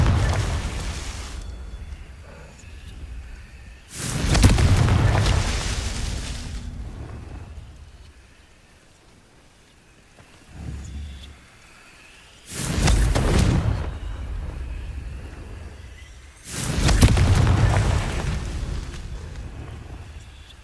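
Four loud, booming blasts of the Confringo fire spell in Hogwarts Legacy, each a few seconds long and spaced irregularly, with deep rumbling low end and quieter game ambience between them.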